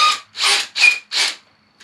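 Four rasping scrapes come from a hand reamer working through a fishing rod grip, each stroke about a quarter second long with short pauses between, loud and close with no voices.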